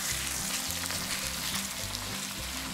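Horse meat plov with brown rice frying in a pan, a dense continuous sizzle with soft stirring scrapes, loud and close, no talk.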